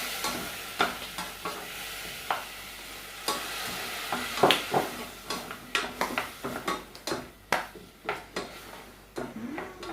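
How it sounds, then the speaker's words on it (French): Tomato stirred with a little water in a pan, utensil scraping and tapping in uneven strokes over a faint sizzle, with clinks against the pan growing more frequent and sharper toward the end. "Un peu d'eau pour bien mélanger ma tomate."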